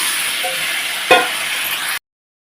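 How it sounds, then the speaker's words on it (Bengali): Broth poured into a pan of frying fish masala for a Bengali boroli fish curry with potato and drumstick, simmering and stirred: a steady close hiss and sizzle with one sharp utensil clink midway, then an abrupt cutoff. "এটা এখন ঝোল দিয়ে দিচ্ছি আমি"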